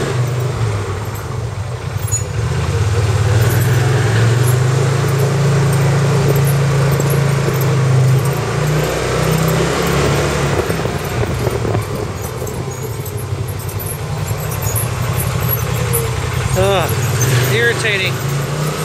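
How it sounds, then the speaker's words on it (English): Brakes on a Honda Wildcat squeal in short, high chirps over a steady idling engine rumble, most noticeable near the end of the stretch, with the machine close by. "Squeaky, squeaky, squeaky brakes."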